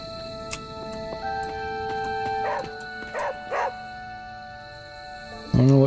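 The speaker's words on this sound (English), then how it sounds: "I don't know what Charlie's barking about." Charlie the dog in Marvel's Midnight Suns gives a few quick barks midway, with steady game ambience and tones ringing around them and a louder burst at the end.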